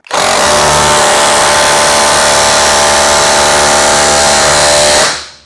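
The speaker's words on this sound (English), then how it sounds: "For fairness sake, one more with the Skill auto hammer." A Skil battery-powered auto hammer drives a nail into wood, giving a loud, steady, rattling buzz that runs for about five seconds, then cuts off abruptly.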